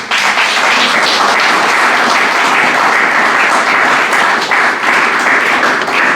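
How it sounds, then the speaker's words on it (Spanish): Church congregation breaks into strong applause during a sermon, a steady, loud wash of many hands clapping that fills the whole stretch without pause. "Dale un fuerte aplauso al Señor."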